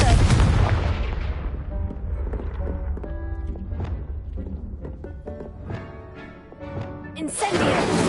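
Confringo blasting spell cast in Hogwarts Legacy, a loud booming burst with a long rumbling decay and scattered debris-like clatter, followed by a second fiery blast near the end.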